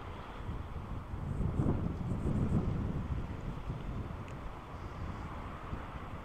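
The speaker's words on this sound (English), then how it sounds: "Hold for wind. It's breezy today." Breezy wind on an open Oklahoma plain buffets the microphone in a steady low rumble, swelling into stronger gusts midway before easing off, with no one talking.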